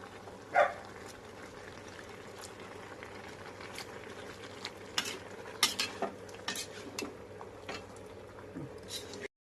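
A spoon stirs thick curd in a warming biryani pot, making faint scraping and soft clinks of metal against the vessel, scattered irregularly over a quiet low background hum.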